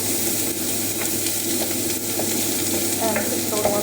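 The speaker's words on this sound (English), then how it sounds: "I'm going to saute onions and garlic a little." Onions and garlic sauté in a pan for spaghetti and meatballs, with a steady, close sizzle and a few faint utensil clicks throughout.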